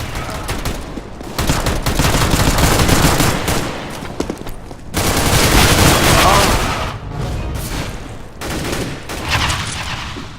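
Dense bursts of automatic gunfire and shots in Counter-Strike: Global Offensive during an online match, loud rapid volleys coming in waves with short pauses, while a player talks over the action.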